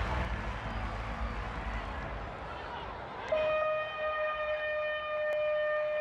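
A halftime siren at a Super Rugby match between the Jaguares and the Sharks blares a steady, loud held tone in the stadium, cutting in over crowd noise and commentary.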